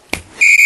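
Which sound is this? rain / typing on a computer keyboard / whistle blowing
whistle blowing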